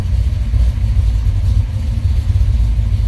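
A cold car engine runs close by with a low, steady rumble that lifts slightly as it is revved, loud and with no voice over it.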